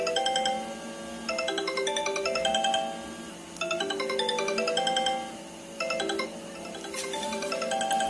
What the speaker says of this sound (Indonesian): Udah ada notifikasi dari handphone.